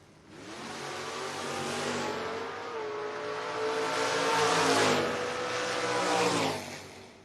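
A 1989 Mustang and a Camaro drag race at a door car event, their engines roaring loudly and building as they launch and pull down the strip, with crowd and track noise around them.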